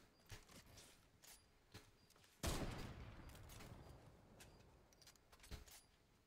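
Gunfire in the video game Fortnite, with a loud burst of rapid shots that erupts midway and trails into a rattling wash, while scattered sharp game clicks and smaller pops sound before and after.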